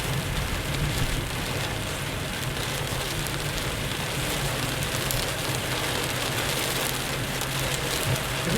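Steady rain pours down on the Rodovia Ayrton Senna highway, a dense, continuous hiss of water on pavement with a low rumbling undertone, constant and unbroken throughout.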